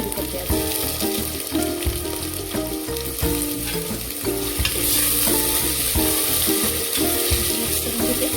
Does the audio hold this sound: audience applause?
no